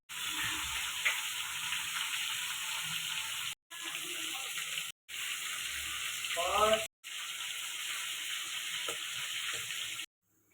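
Whole cumin and dried red chillies spit and sizzle in hot oil in a kadai, a steady close hiss broken by a few brief cuts, with faint crackles now and then.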